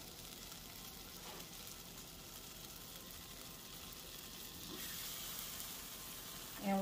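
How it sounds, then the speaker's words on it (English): Brown sugar cooking in melted butter for a farmhouse cake gives a steady, soft sizzle throughout, with a slight rise in the final second. "to our melting butter, we're going to add 2 cups of brown sugar"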